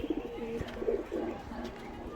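Pigeons kept at a home loft in Ranaghat coo softly in a few short, rounded calls one after another, fairly close and alone.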